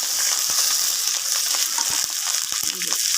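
Ginger paste and onion paste sizzle steadily in a hot pan in a village kitchen, a dense continuous frying hiss broken by a few soft scraping stirs, close and fairly loud.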